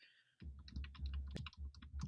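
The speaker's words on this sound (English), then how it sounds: "You hear me typing, I'm sorry, but I'm typing" Someone types on a laptop keyboard at close range, producing a quick, uneven patter of key clicks after a brief quiet start.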